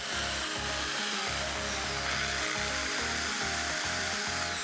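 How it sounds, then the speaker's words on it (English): A drill whirs in repeated short bursts, biting into wood for a balcony cat enclosure with a grinding, buzzing tone, close and loud throughout. "I'll drill some holes"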